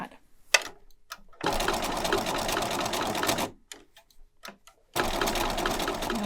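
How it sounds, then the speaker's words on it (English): A sewing machine stitches fabric for a heart-shaped tooth fairy pillow, running in two loud, steady bursts of rapid mechanical whirring separated by a quiet pause with a few faint clicks. "It's very helpful if you have the needle down feature where the needle will automatically stay down when you stop the machine."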